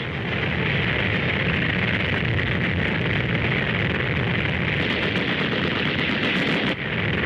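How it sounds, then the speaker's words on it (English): Continuous heavy artillery and gunfire rumble, dense and loud, from 1941 army war games as troops cross a stream in a vintage newsreel, a steady barrage with no talk. "Crossing a stream under artillery fire."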